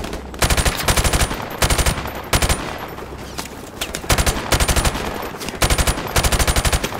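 Loud bursts of rapid automatic machine gun fire in Call of Duty: Modern Warfare Remastered, several long volleys separated by short pauses, with a dense battle din underneath.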